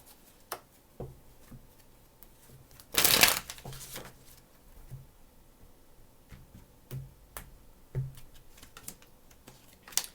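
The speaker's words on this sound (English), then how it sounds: "3 shuffles for this Ace of Swords in reverse" Tarot cards shuffled by hand in a quiet room, one loud riffling burst in the middle surrounded by soft, scattered card taps and handling clicks.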